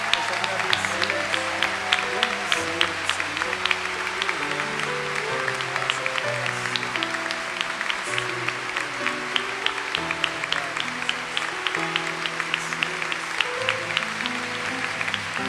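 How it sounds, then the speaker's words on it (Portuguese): A church congregation applauds during a Catholic mass, steady clapping running throughout while organ or keyboard music with sustained chords plays along underneath. "Agora vamos aplaudir o Senhor com toda a força"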